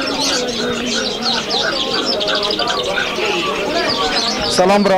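Pigeons and other birds cooing and chirping densely at Kabul's Kah Faroshi bird market street, many birds close by, with someone talking over the constant bird chatter.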